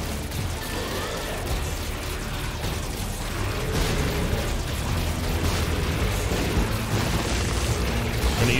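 Bomb explosions in The Binding of Isaac: Repentance video game, a steady dense rumble of booms and bursts that stays loud throughout, with no single blast standing apart from the continuous game noise.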